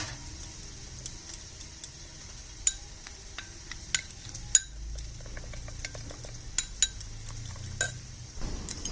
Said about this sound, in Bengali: মশলাটাকে আমি একটু জল দিয়ে গুলে নিচ্ছি